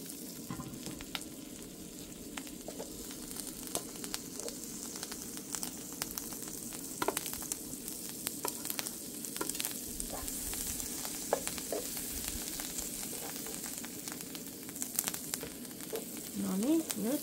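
Garlic sizzling in butter in a pan on an outdoor camp stove at a Kainuu bog reserve: a continuous crackling fry with scattered sharp pops and scrapes of stirring, close and moderate, with faint wind.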